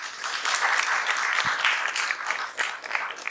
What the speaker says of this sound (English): Can we welcome sir with a big round of applause?